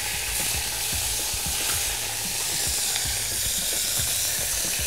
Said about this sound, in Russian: И теперь я мясо могу перемешать.